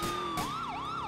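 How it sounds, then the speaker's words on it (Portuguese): A police car siren from GTA IV wails up and down in a fast, repeating yelp cycle, loud and close, with steady engine hum beneath. "Vamos já aqui mudar a sirene pra ele sentir a pressão."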